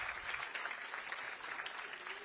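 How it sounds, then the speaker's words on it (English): Audience applause at a literary festival in the Western Ghats, a steady wash of many clapping hands, moderately faint and fairly distant, holding evenly without any voices over it. "Another round of applause, please."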